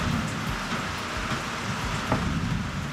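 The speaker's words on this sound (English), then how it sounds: "The rain's here. Yeah, it's coming down." Steady rain pours down on and around a shed, a dense, continuous hiss and patter with occasional heavier drips standing out, and no voices.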